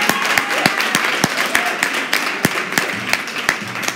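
Scattered clapping at a live-streamed inspirational talk, a loose, uneven run of sharp individual hand claps rather than a full ovation, with a voice speaking over them.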